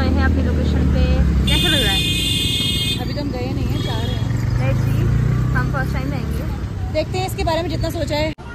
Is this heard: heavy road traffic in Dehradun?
yes